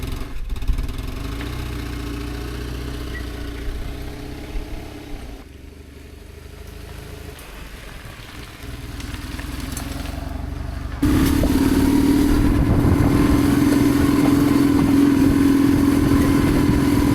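A motorcycle engine drones steadily while riding the open road, dipping briefly in the middle before swelling into a louder, harder-pulling hum for the final stretch.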